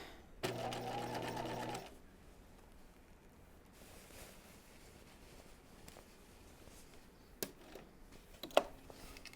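Sewing machine stitching the corner of a raglan top, one short steady mechanical buzz up close, then quiet fabric handling and a few soft clicks.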